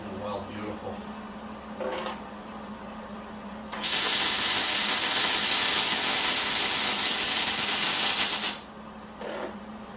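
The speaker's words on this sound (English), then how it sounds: "Boy, this is going to weld beautiful." A welder works on a Wheel Horse front end loader build: a loud, steady crackling hiss of an arc bead runs for about five seconds, framed by quieter shop noise before and after.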